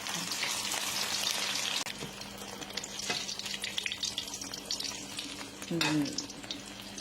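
Eggplant pizza fries in hot oil, a loud, continuous crackling sizzle that keeps going, with a few clinks and shifts of movement partway through.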